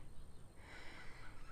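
A duck honks by a lake along a desert walking trail at Discovery Park in Pahrump, Nevada, giving a faint, hoarse call outdoors, alone with no talking.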